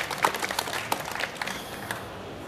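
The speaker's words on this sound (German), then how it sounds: "Ist mal ein kleiner Applaus für die Chaospost" Audience applause for the Chaospost at a talk, a short burst of scattered clapping from a crowd that tapers off quickly, moderately loud with no talking over it.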